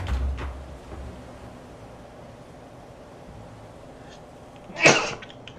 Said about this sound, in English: Stupid sneeze.